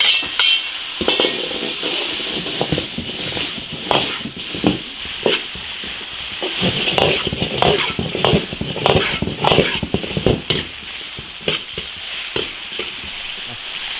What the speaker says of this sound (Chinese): 炒香，下金钱肚。